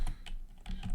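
Typing on a computer keyboard gives several quick, close clicks in uneven bursts over a low background hum, with no talking.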